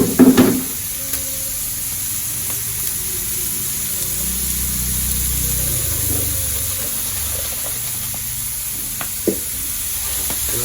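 Chicken devil ingredients sauté in a hot pan, a continuous low frying hiss with a few stirring scrapes and light utensil knocks, no voices.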